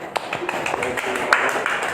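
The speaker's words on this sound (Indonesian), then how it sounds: "Tepuk tangan dulu." A classroom of students claps together during a school history lesson, a quick run of sharp, close hand claps over a steady wash of voices and room chatter.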